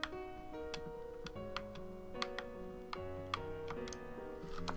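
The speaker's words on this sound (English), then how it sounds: "A clock." A clock ticks in AI: The Somnium Files, a steady series of sharp clicks about every half second, set against sustained game music with no talk.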